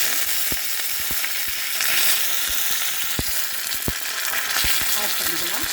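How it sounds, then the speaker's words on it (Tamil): Mustard seeds and urad dal tempering in hot oil for onion chutney, a continuous sizzle with many sharp, scattered pops and crackles of seeds bursting close by. "சட்னியை நம்ம தாளிச்சுக்கலாம்."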